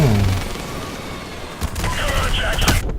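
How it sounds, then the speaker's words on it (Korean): Gunfire and explosions come from the video game Call of Duty Modern Warfare Remastered, with a vehicle blowing up. A dense, loud rumble of booms is followed by crackling shots, and a voice is faintly heard mixed in. "차량이 폭발 폭발"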